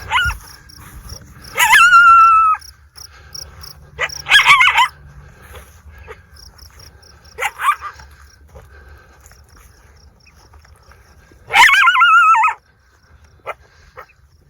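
Dog barking and whimpering outdoors at night, several separate bursts of high yips and whines spaced apart, fairly near, over a faint insect and cricket background.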